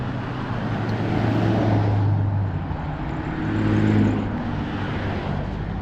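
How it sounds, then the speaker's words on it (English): Road traffic noise with cars passing by on a street during a walk in Lewiston, Maine, a steady close rumble of engines and tires that swells as vehicles go past, with no talking. "as you can tell, I'm not a fan of walking with traffic noise"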